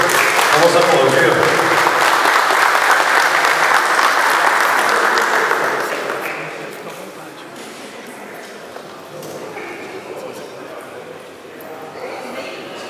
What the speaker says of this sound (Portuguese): Por favor, uma salva de palmas, por favor. Vamos aplaudir.